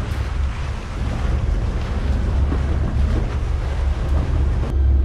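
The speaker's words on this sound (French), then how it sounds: "regardez comment bouge le ferry" A ferry moving through waves at sea, heard as loud, continuous rushing water and wind buffeting close to the microphone, with a low rumbling wash throughout.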